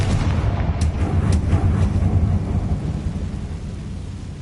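A Confringo fire spell in Hogwarts Legacy bursts with a deep rumbling blast and crackling impacts, then fades into a low, lingering roar.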